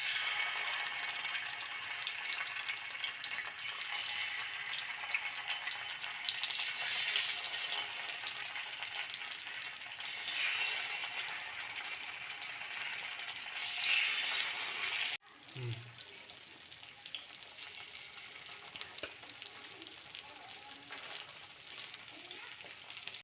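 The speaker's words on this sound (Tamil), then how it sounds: "வறுக்கலாங்க." Marinated fish fries in hot refined oil with a loud, steady sizzle and crackle. Partway through it drops briefly and returns a little softer and still bubbling. No one speaks.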